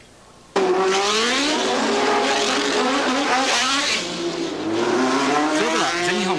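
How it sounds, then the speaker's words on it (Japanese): Formula 2 race cars, including a March 842 Honda, racing at Suzuka circuit: loud, high-pitched engine whines sweeping up and down as several cars pass close by, continuous after an abrupt start. "今日はとりあえずその F2 シリーズの第1戦、レース展開をじっくりお楽しみください"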